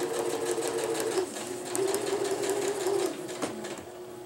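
Sewing machine stitching a winter tarp alongside an existing seam, a steady close mechanical whirr with slight speed changes and a short pause near the end.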